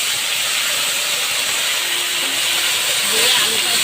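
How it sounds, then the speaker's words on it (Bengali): Potatoes fry in hot oil with chili powder and turmeric, a loud, steady, bright hiss that runs unbroken throughout with a slight lift near the end. "দিয়ে এবার আমি লাল লাল করে আলুটা ভেজে নেব।"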